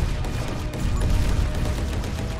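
Rapid artillery-tower fire in the tower-defence game Ember Guard, a dense, steady barrage of overlapping booms with no talking.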